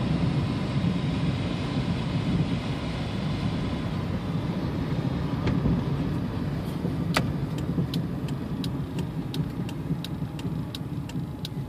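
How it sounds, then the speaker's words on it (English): A 1994 Toyota Camry engine, due for a timing belt and seal replacement, drones steadily while driving at about 32 mph on a test drive, with broadband road and cabin noise and a faint regular ticking, likely a turn signal, toward the end. "Just letting the motor warm up."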